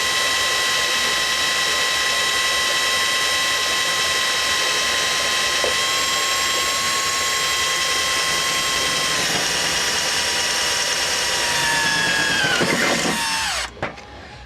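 A drill boring a hole for a Whirlpool washer lid switch, running as a steady whine with a ratcheting, gear-like texture for about thirteen seconds, then winding down sharply to a stop.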